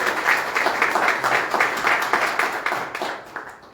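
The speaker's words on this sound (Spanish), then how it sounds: "Un aplauso para recibir a este autor." An audience at a literary book event applauds an author, producing dense, steady clapping that carries on for a few seconds before tapering off near the end.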